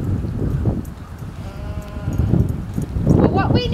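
Sheep bleat during a dog herding lesson, a few short wavering cries near the end, heard under a man calling commands to the working dog over outdoor noise.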